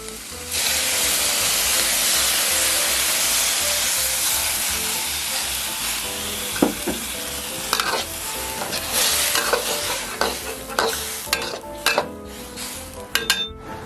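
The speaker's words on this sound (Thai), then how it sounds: "ตอนนี้นะครับราดหน้าเราเริ่มเดือดแล้วครับ" Rad na gravy with baby corn, cauliflower and broccoli bubbling in a wok on a portable gas canister stove, a steady close boiling hiss with scattered clinks of a utensil against the pan toward the end.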